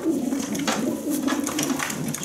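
Racing pigeon, a young bird trained in its hatch year and related to a youth marathon champion, cooing steadily in a loft with soft repeated low coos throughout, fairly close.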